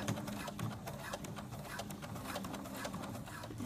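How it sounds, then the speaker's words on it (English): A home sewing machine stitches through knit jogger fabric and waistband elastic, a close, rapid mechanical whirring with a fluttering pulse that runs continuously and fairly loud, with no speech. "The sewing machine needs a little encouragement."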